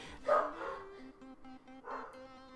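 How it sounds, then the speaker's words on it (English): Dogs barking in a Unity-built game, a few quick barks close together followed by a second burst about two seconds later, fairly quiet and with no talking. "they're still barking because, well, they can"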